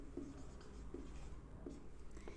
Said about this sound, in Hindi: मैं यहाँ पे लिख देती हूँ